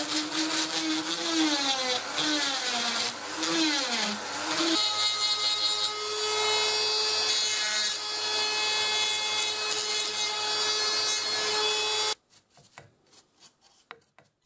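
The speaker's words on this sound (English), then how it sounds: "use the chop saw just to take away the bulk of the wood" A chop saw on a woodturning carving project, cutting away the bulk of the wood from a dragon claw blank, gives a loud, steady, continuous grinding and whining roar for about twelve seconds, then stops abruptly into quiet handling noises.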